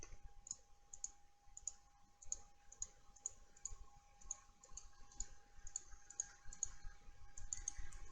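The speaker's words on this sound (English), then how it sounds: "So again, I'm just right clicking." A computer mouse is right-clicked again and again while drawing in City Designer 3 software, giving faint, crisp, evenly spaced clicks in a quiet room.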